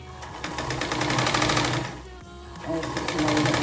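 A sewing machine runs rapid rattling stitches along the neckline of a full-flared, floor-length umbrella-cut garment, easing off briefly in the middle before starting up again loudly.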